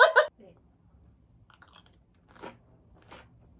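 Crispy rice-paper chicken is bitten with one loud, close crunch, followed by softer chewing crackles and a few scattered crunches as it is eaten.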